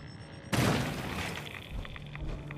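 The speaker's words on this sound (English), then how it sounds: "And something blew up." Loud explosion in the Fallout 4 video game, a sudden booming blast that hits at once and then rolls into a long rumbling decay with scattered debris and crackle.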